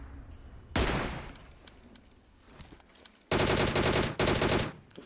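A DP machine gun fires in a video game in two loud, sustained bursts of rapid automatic shots, the first short and the second longer with a brief break partway through, over quieter game sound between them.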